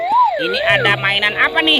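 A voice imitates a toy fire rescue helicopter's siren with sweeping up-and-down wails, close and loud, with a brief question spoken partway through.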